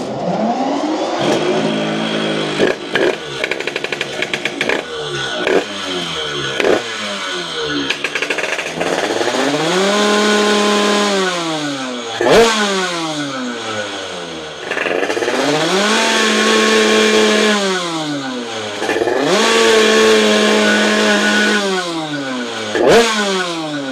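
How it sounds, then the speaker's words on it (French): An engine fitted with a Keihin PWK carburettor runs after its needle adjustment, revving up and down repeatedly in strong rising and falling sweeps over a steady idle, loud and close. "j'ai remis l'aiguille au bon endroit et je démarre directement pour te faire écouter"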